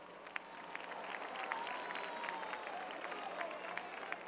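Audience applause at an outdoor concert in Cuba, a steady wash of many hands clapping at moderate distance with scattered louder claps, with no voices over it.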